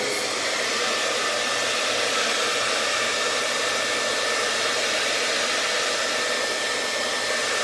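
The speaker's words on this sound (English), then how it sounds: "it's an important thing that you have a professional length hairdryer so that you can hold it by the nozzle end of it" A professional-length hair dryer blows steadily while drying hair, a loud, even whooshing roar with no breaks, running alone throughout.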